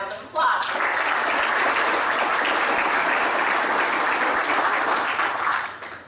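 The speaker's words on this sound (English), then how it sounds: "So I think we should have a round of applause." An audience at a sports hall of fame ceremony breaks into applause after a brief spoken lead-in, a loud, even wall of clapping that holds steady for several seconds before tapering off at the end.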